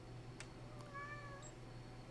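A house cat meows once, a short rising-and-falling cry close by, preceded by a couple of faint clicks and set over a steady low electrical hum in a quiet room.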